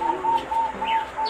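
A perkutut Korowelang zebra dove coos in a soft, repeating rhythm of short, evenly spaced calls, heard close and alone against quiet background.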